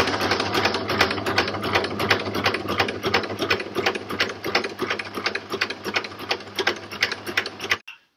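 A sewing machine topstitches a small zippered fabric pouch, running in a steady, close, rapid stitching rhythm for several seconds before stopping abruptly.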